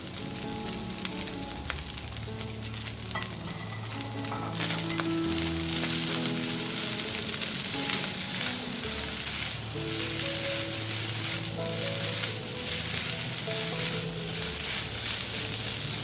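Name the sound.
stir frying fried rice with fried potato and tofu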